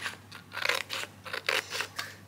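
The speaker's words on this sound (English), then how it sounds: "I think I will use this map as an additional page and just will cut it out a bit" Scissors snip through a paper map to shorten it for a travel journal page, a series of close, crisp cutting strokes in an even rhythm with no talking.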